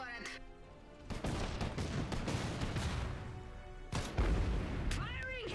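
Artillery fire and explosions from the video game Iron Harvest, with sharp booming hits and rumbling blasts over a busy battle din, one heavy impact standing out near the end.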